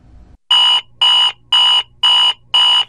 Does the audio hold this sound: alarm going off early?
yes